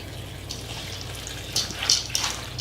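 Filtered water, about half a liter, poured into a mixing container for pineapple-apple cookie dough; a soft, steady trickling stream runs close by, with a few brighter splashy bursts near the end and no talk.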